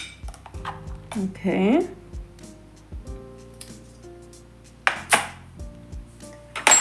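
A spoon scrapes and taps against a metal lunch tiffin while scooping couscous, a series of light clinks and scrapes up close, with a brief spoken word in between.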